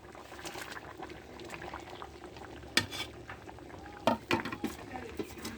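Pieces of fried magur catfish go into a simmering potato curry pot, giving a low bubbling boil with a few sharp splashy plops and sizzles as each piece drops in, close by and with no talk.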